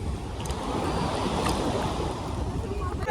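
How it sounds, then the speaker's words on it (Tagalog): Strong sea waves rushing and surging around a boat near an island, with steady broadband wash and wind buffeting the microphone, no clear talk. "lumalakas yung alon"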